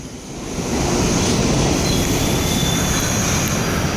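A New York City subway train pulls into a station, a loud, steady rumble of rolling wheels with high metallic squealing that swells in the first half-second and then holds, with no talking.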